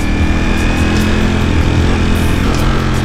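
A Ducati Panigale V4S motorcycle engine runs with a loud, steady, high-pitched buzzing drone and constant intensity, heard up close with no talking.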